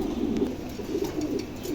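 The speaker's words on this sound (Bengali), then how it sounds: "চমৎকার এক জোড়া কবুতর।" A pair of Mundi pigeons cooing softly in short repeated low calls, close but faint against steady background hiss and no voices.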